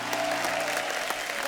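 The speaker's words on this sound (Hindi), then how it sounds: "जोरदार तालियां हो जाएं हमारे कैप्टन के लिए" Studio audience on a comedy talk show clapping for captains welcomed on stage, a dense, loud burst of applause with voices mixed in.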